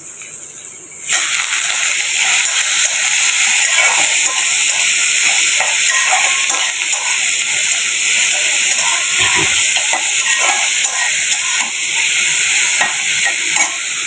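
Shrimp drop into hot oil in a pan, setting off a loud, sudden sizzle that hisses on steadily close by, with occasional stirring scrapes.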